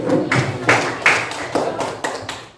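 Clapping in a classroom, a burst of hand claps with several sharp peaks over about two and a half seconds, fading slightly toward the end, no talking.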